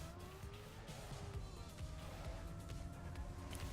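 In Trackmania, a race car brakes and skids: a steady, loud engine drone runs throughout, with tire squeal mixed in as it slows.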